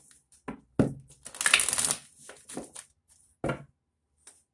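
Tarot cards are shuffled by hand in a few short, crisp riffling bursts with quiet gaps between, close and soft.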